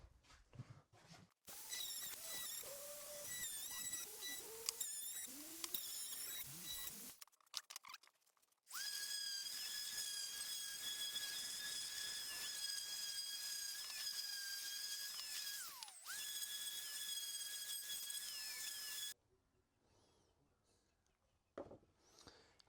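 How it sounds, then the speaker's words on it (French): Power sanding of a wooden lamp part, done before cutting small chamfers on the piece; a loud, steady high-pitched machine whine runs for long stretches, broken by short pauses and a quieter tail near the end. "Un petit coup de ponçage."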